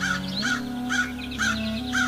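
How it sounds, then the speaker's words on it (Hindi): A crow chick gives repeated short caws, about five evenly spaced calls, loud and close over a steady tonal hum. "कुछ दिनों बाद उनमें से एक अंडा फूटा और उसमें से एक छोटा सा कौवे का बच्चा बाहर निकला।"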